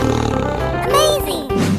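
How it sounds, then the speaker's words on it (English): A tiger roars in a short, strained burst that swells and then breaks off, with a harmonic, voice-like growl over a low, rumbling background. "Tiger."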